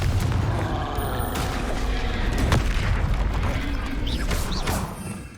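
A Confringo blasting spell explodes in Hogwarts Legacy, a sustained booming, crashing roar that fills the clip loudly before tapering off at the end.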